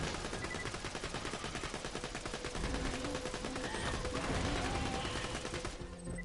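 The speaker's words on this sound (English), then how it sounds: "Keep on firing." Continuous rapid gunfire in the video game Borderlands 2, a steady automatic rattle of closely spaced shots running for several seconds, fairly quiet overall and tapering off at the end.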